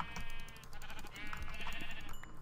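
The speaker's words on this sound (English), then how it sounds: "Let's kill some more sheep." Sheep bleating in the video game Minecraft, several wavering, nasal bleats in quick succession over a low background hum, moderately close.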